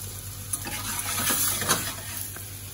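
Vegan bacon pieces frying in a pan alongside mushrooms, giving a close, continuous sizzle with occasional soft stirring scrapes.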